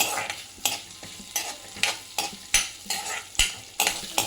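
Chopped onion frying in a pan while being stirred, a steady sizzle broken by regular scraping strokes of a spoon roughly every half second, close and prominent.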